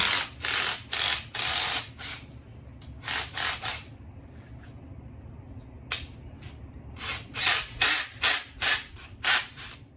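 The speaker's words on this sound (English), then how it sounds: "Give it a whirl, few spins, and you can see how much cleaner it is on the inside right now." A cleaning brush spins inside a pipe fitting in bursts of rapid, close scratchy whirring, with a quieter pause midway before more quick spins.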